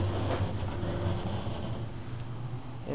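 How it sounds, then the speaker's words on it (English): Otis 2000H elevator cab at a Bergdorf Goodman men's store in New York, running with a steady low rumbling hum and faint continuous rattling, heard from inside the cab without talk. "Well, this one is quieter in terms of motor, but it's rattling a little bit."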